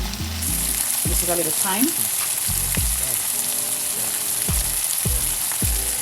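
Shrimp and pasta fry in a hot pan with a constant bright sizzle, broken by repeated stirring scrapes and low clunks of a utensil, while a person speaks briefly.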